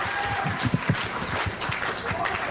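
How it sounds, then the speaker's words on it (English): An improv comedy audience claps along to a beat, short sharp claps coming in a loose rhythm with a performer's voice talking over them. "Clap like that. Clap. Dance to the rhythm."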